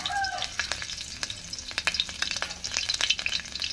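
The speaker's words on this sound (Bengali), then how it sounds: "তেলটাতে আমি কিছু লঙ্কা কুচি দিয়ে দিলাম" Chopped green chilies sizzling in hot oil in a wok, a close crackling fry with sharp pops and stirring scrapes throughout.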